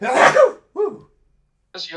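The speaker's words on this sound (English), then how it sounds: "I'm gonna sneeze." A single loud, close sneeze bursts out at the start, followed by brief talk from other voices in a quiet room.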